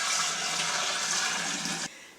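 Water pouring steadily into a container while making kombucha, a continuous close splashing rush that stops abruptly after about two seconds.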